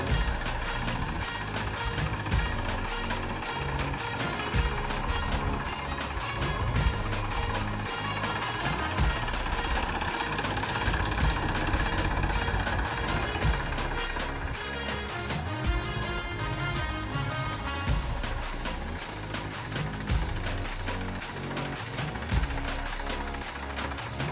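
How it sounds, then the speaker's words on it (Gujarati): A tractor engine runs steadily over a threshing heap in a farm field, a continuous loud rumble with clattering and knocking throughout and no voices. "પછી જો આ પ્રમાણે ટ્રેક્ટર ફેરવવાનું કરી દીધું અમે ચાલુ"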